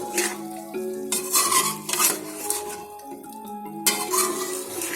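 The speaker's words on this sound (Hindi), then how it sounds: "सॉल्ट, इसको अच्छे से मिक्स कर लें।" A spoon scrapes and clinks repeatedly in a pot as achari beef masala with salt, black pepper, red chilli and ginger-garlic paste is mixed, with a soft sizzle underneath and no voices.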